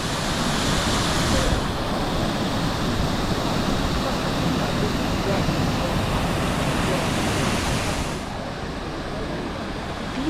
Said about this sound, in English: The roar of the water echoes through the forest